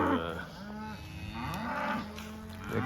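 Cattle moo repeatedly in a paddock with a pond, several low drawn-out calls overlapping one another against a steady outdoor background.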